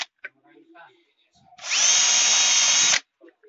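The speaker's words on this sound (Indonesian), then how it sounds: "Ini kita bor saja." A power drill bores into a Canon iP2770 printer ink cartridge in one loud, close burst of about a second and a half, framed by faint handling noises and brief talking.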